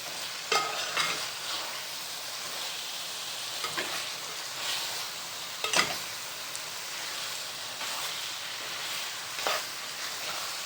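Dry fish curry is stirred and mixed in a pan, a spatula scraping in a few distinct strokes over a soft, steady background sizzle.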